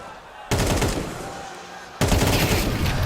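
Loud AWP sniper rifle shots in a Counter-Strike match at IEM Chengdu 2025, two sharp booming reports about a second and a half apart, each with a long ringing tail and no talk over them.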